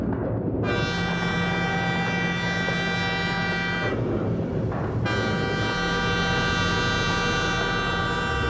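A loud, sustained train whistle blares across the whole stretch, with a short break in the middle, over the steady rumble of a moving train.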